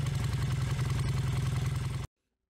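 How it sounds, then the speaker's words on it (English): A motorcycle engine idles loudly and close with a rapid, pulsing chug for about two seconds before cutting off abruptly into silence. "motorcycle."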